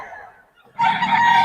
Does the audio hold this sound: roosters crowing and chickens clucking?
yes